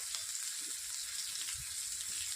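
Turmeric powder goes into a pan of frying vegetables and ginger-garlic paste, and a steady, soft sizzle of hot oil runs throughout with faint stirring and no voices.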